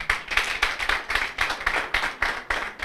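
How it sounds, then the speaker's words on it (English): A small audience at a university moot court competition claps in an uneven rhythm for a few seconds, each clap close and distinct, moderately quiet with no talk over it. "Mr. Bwamba, let's clap for him."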